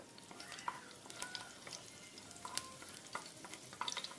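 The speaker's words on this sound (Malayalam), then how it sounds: "എന്നിട്ട് ആ ചതച്ച് വെച്ച് വെളുത്തുള്ളി ഇട്ട് കൊടുക്കുക. ആ വെളുത്തുള്ളി ഒന്ന് മൂപ്പിക്കുക." Crushed garlic fries in coconut oil in a kadai, a faint soft sizzle under occasional stirring scrapes and light clinks.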